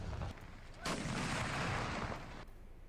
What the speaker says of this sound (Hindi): सूबाई दारुल-हुकूमतों में 21-21 तोपों की सलामी दी गई।